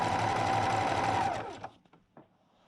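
A home sewing machine stitches a Dragonfly's Path quilt block in a fast, buzzing run that lasts just over a second, then stops, followed by a few soft clicks.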